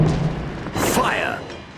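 Warship gun salvo in World of Warships, a booming burst mixed with a voiced game command and whistling shell sounds, short and loud.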